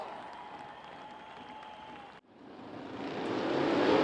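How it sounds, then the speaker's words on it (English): Crowd applause in the grandstands at a dirt track race featuring USAC midgets and sprint cars. After an abrupt cut, a broad wash of clapping and crowd noise builds steadily, growing louder toward the end. "Give that young man a round of applause."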